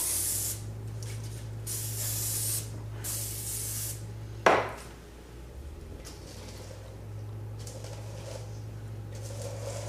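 Cooking spray hisses onto a pan in several bursts of bright, close spraying, followed by one sharp hit and a quieter stretch over a steady low hum.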